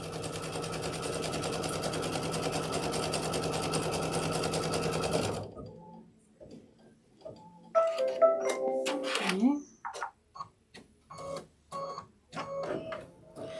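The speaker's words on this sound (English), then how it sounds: "those 2 lines I'm going to stitch out without putting down the material" A sewing machine stitches quilt block lines for a sunflower house block with a loud steady whir for about five seconds, then stops; clicks, handling noises and a brief squeak follow.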